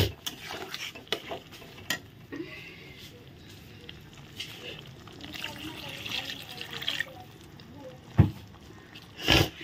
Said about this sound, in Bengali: আর একটু মশলা বাটি ধুয়ে জল দিয়ে দিলাম